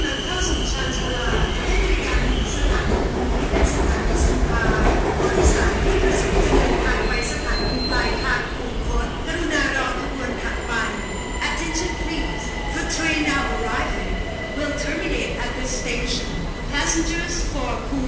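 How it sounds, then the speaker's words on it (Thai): A BTS Skytrain rolls into a Bangkok platform near Chatuchak, a steady loud rumble of wheels and carriages filling the whole stretch, with voices and station chatter mixed in throughout. "ผู้โดยสารโปรดทราบขบวนรถที่กำลังเข้าสู่ชานชาลา"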